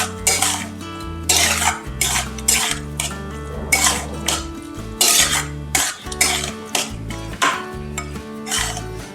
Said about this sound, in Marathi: छान आता आपण हे मिक्स करून घेऊया